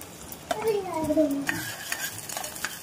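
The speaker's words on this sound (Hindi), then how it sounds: "थोडं तेल गरम झालं की मी लगेच कांदा घालून घेते। आता कांदा घालून घेऊया।" Chopped onion tossed into hot oil in a pressure cooker for mutton kheema, frying with a soft, steady sizzle while a spoon scrapes and stirs the pot in a few clear strokes, close by with no talking.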